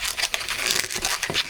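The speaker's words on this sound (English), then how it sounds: "Make that into a pinch twist." Rubber latex balloon squeaking and crinkling as it is pinched and twisted into a small bubble, a dense run of close, rapid rubbery squeaks and rubs with no talking.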